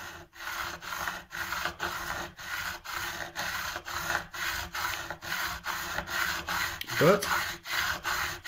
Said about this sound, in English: So I'm just going to select the right file again here, which is this middle one. On the file goes